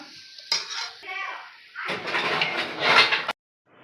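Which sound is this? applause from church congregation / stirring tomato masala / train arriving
stirring tomato masala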